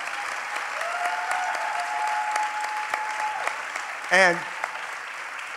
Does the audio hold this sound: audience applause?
yes